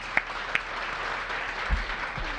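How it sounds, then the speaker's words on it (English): Scattered applause from an audience at an outdoor civic grant announcement, sparse claps and a few louder individual hits over a low background hush. "Give them another big round of applause."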